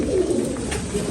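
A female pigeon held in the hand coos steadily and softly at close range, a low throaty murmur continuing through the whole short moment with no talk over it.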